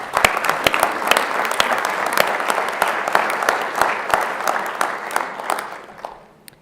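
A graduation audience claps for a tutor, a dense, steady round of applause that holds evenly for several seconds before thinning and fading out near the end.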